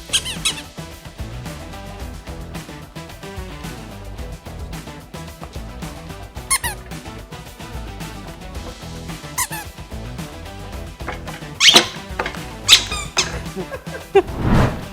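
Plastic pillow squeaker used for magic and pranks, squeezed repeatedly to give sharp squeaks scattered over a busy, steady background, louder bursts near the end.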